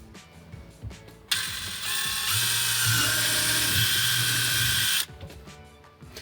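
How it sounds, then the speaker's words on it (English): A power drill whirs loudly for about four seconds, its motor note steady and shifting slightly as it bites into a sink drain pipe, boring a hole for a reverse osmosis saddle drain, then stops. "let's go ahead and drill that hole for the saddle drain"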